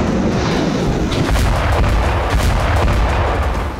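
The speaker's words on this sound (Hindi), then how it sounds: "बम, गोला, मिसाइल और रॉकेट लॉन्चर से ताबड़तोड़ प्रहार हो रहे हैं।" Artillery and rocket bombardment in the Ukraine war, a dense, loud rumble of repeated booming blasts and cracks rolling continuously with no pauses.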